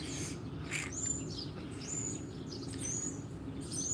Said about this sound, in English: Don't you like the sounds of the birds?